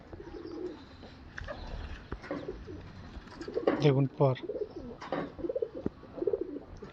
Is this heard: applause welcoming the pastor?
no